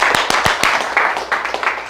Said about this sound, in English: You can clap that up.